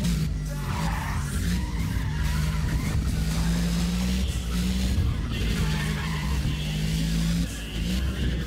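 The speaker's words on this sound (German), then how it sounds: "das war ein schöner Slide." A car slides and skids in the racing video game Need for Speed ProStreet, a dense, steady tire squeal layered over a constant low engine drone that runs loud and unbroken for the whole stretch.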